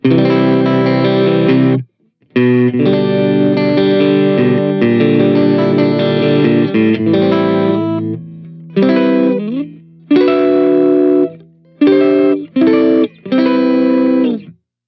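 A distorted electric guitar through a Bogner Shiva amp model on a Line 6 POD GO plays chords and riffs with no echo or reverb, stopping abruptly between phrases with clean, dry gaps.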